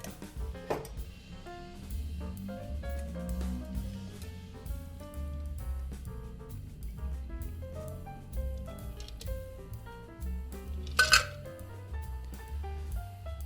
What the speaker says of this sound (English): And we're going to double strain the cocktail into our pre-chilled glass.